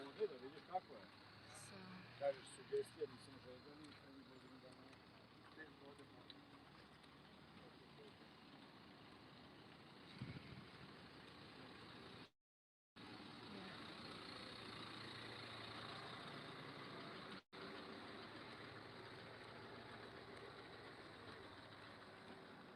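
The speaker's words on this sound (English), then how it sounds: "another big car passing as well" A large vehicle passes along a city street during a mid-January walk, a steady broadband road rumble building and holding for several seconds amid general outdoor street noise, with brief dropouts.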